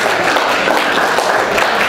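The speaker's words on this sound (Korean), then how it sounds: "이하성 박사님 다시 한번 박수 부탁드립니다" A dinner crowd at a birthday commemoration banquet applauds, a loud, dense and continuous burst of clapping close by, with faint crowd murmur underneath.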